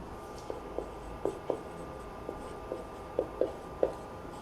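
Pen strokes scratch out notes for a class 12 maths problem, a series of short, close taps and scrapes arriving in small irregular clusters over a quiet room hum.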